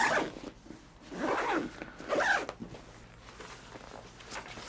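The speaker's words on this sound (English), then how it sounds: "We'll zip this back into place" A fabric zipper on a Klim Atlas avalanche bag is pulled closed in several short, close rasping strokes separated by brief pauses.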